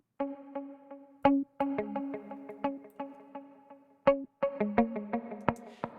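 Bright plucked melodic notes repeat with ping-pong delay echoes trailing after each attack, forming a sparse, rhythmic, moderately quiet pattern with no voices.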